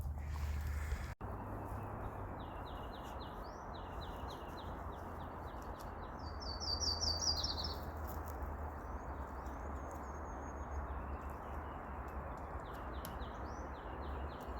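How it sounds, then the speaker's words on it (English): Spring birdsong in Anchorage, Alaska: faint, distant chirps repeat in short bursts over a steady outdoor hiss. "The beautiful sound of birds."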